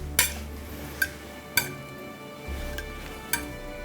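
Mini pancakes are set one by one onto a wide white plate, giving four or five soft clinks and taps spaced about a second apart over a low steady background hum.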